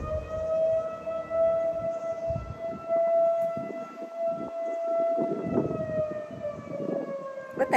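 A civil defense siren wails steadily outdoors, its sustained tone holding over about eight seconds with a slight rise near the end, audible at moderate distance over faint background noise.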